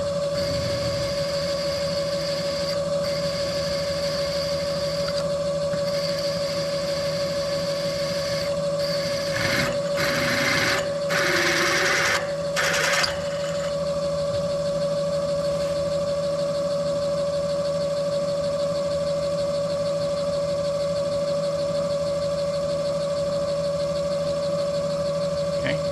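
A lathe turns down the outside of bolts, a steady mechanical whine with a sharp tonal hum running throughout, briefly broken by a few louder cutting bursts near the middle.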